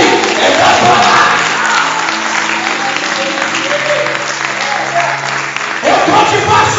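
A church congregation claps and cheers during a sermon, loud, sustained applause with shouts mixed in that surges again near the end.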